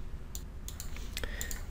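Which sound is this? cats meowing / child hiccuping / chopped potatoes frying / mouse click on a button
mouse click on a button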